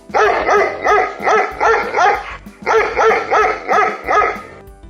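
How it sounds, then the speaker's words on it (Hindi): A dog barks loudly and close in two quick series of rhythmic barks with a short pause between them, with no other sounds. "Dog मतलब कुत्ता। कुत्ता कैसे करता है?"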